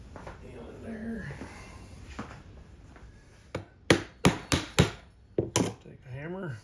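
A hammer strikes a hardened steel punch clamped in place for bell making, several sharp ringing metallic blows in a quick irregular series after a stretch of quiet shop noise, with faint speech at the end.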